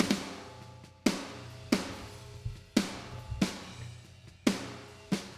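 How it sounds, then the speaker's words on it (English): A snare drum processed with EQ, a compressor and a transient shaper is struck about eight times at a steady, moderate pace, each hit sharp and punchy with a short decaying tail, heard alone. "And altogether, the snare sounds like this."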